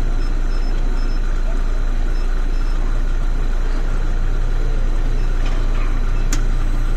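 A Hyundai i20 engine idles steadily during AC gas charging in a workshop, a continuous low hum with faint background clicks and no clear talk.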